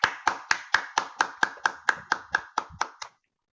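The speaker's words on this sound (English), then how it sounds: "Please give group 2 a very big round of applause." A small group claps in unison for about three seconds, about a dozen sharp, evenly spaced claps, close and loud, stopping abruptly, with no talk over it.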